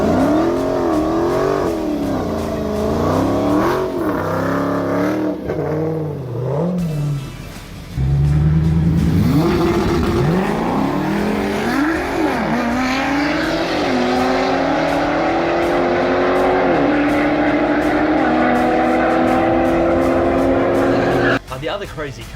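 A Dodge Demon V8 drag car engine revs hard, pitch climbing and falling in repeated sweeps, loud and close, with a brief tire squeal and spoken commentary running over the engine.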